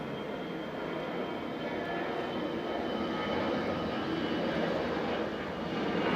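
Aircraft at Okinawa airport (OKA), where commercial and military planes operate, produce a steady, loud engine roar that fills the whole stretch without a break.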